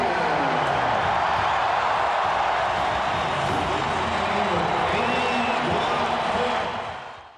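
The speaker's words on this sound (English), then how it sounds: "Listen to this crowd for number 8, Kobe Bryant." A stadium crowd roars and cheers for Kobe Bryant at an NBA game, a dense, sustained wall of far-off voices that holds steady before fading out at the end.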